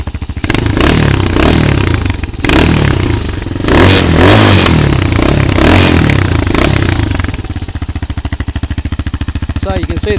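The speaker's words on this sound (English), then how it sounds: "Give it a rev." An Elstar Tank 250cc quad engine runs loud and close, revving hard in rough surges before settling into a pulsing idle.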